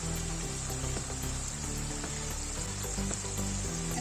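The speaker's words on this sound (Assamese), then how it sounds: "এতিয়া গোটেইখিনি ভালকৈ লৰাই ল'ম।" Duck and potato curry spiced with Kashmiri red chili and cumin powder sizzles steadily in a pan while being stirred, a continuous close frying hiss with faint scraping and no voices.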